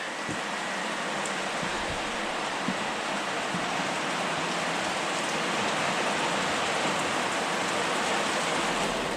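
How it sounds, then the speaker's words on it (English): Heavy rain pours down steadily in Apuseni Natural Park, a dense, continuous hiss of drops hitting surfaces close by, with no voices. "suddenly it comes a heavy rain"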